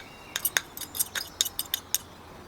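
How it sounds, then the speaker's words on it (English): A metal fork scrapes and clinks against a bowl while fluffing freshly cooked quinoa, about a dozen quick, light taps and scratches in an uneven rhythm, close and fairly quiet. "I'll just fluff it up with a fork"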